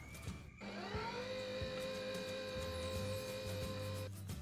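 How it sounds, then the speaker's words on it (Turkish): Three eggs and a cup of sugar are whisked in a deep bowl with an electric mixer, whose motor starts suddenly and holds a steady, close whine before cutting off near the end. "Ve de çırpmaya başlıyorum."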